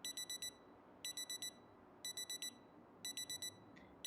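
An alarm clock in a video game beeps in regular bursts of four quick electronic tones about once per second, clear and repeating over a faint low background.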